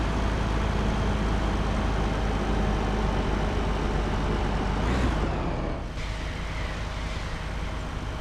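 A vehicle braking in Car Dealer Simulator, heard as a loud, steady engine and road rumble that ends in a sharp hissing release near the end.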